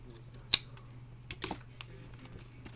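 Scissors cutting the bottoms off paper rose petals: a sharp snip near the start, followed by a few lighter clicks and small paper snips, close and quiet, with no talking.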